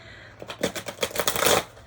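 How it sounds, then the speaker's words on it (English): Tarot cards being shuffled by hand, a series of quick riffling, flicking bursts building to a denser flurry near the end, close and moderately loud with no talking. "I've got to be the worst shuffler in the history of, in the history of tarot."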